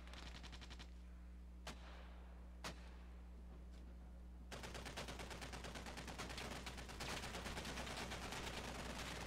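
Mortar rounds land in the video game Squad: two sharp, separate impacts come first, then a dense, rapid stretch of crackling blasts continues to the end at moderate, distant-sounding volume.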